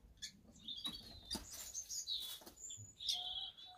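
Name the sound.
pet bird chirping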